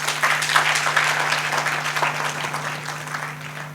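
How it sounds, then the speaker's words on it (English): Audience applause fills a church service after the preacher calls for a round of clapping, a dense steady wash of many hands that fades slightly over about four seconds, with a low hum underneath. "Let's give them a big round of applause."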